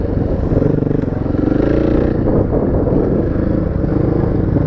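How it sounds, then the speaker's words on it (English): Motorcycle lifting into a wheelie on a ride: a loud, steady engine drone close up, with wind buffeting and a slight shift in tone partway through. "Actually carried a wheelie for a little bit there and went right past the turn."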